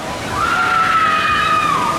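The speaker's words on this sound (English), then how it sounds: "Finally decided to bring back the crazy waves." Large artificial waves surge and slosh in a water park wave pool at Hurricane Harbor Maryland, a steady loud wash of churning water with a rising whistle-like tone over it.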